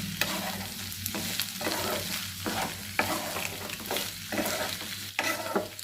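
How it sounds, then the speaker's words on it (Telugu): Salted potato pieces stirred in a pan for a potato fry, with a steady sizzle and repeated scraping strokes of the spoon close up, no voices. "వీటిని ఒకసారి బాగా కలిపేసుకోండి."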